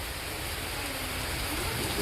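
Heavy rain pours steadily in a thunderstorm, a dense, unbroken hiss of drops close by with no distinct thunderclap.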